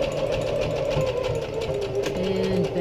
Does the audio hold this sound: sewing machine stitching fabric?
yes